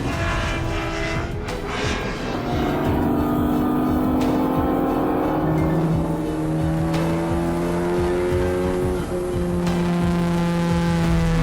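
Race car engine during a six-hour endurance race at Utah Motorsports Campus, a loud continuous drone with several engine tones rising and falling as cars pass and shift, dense and unbroken throughout.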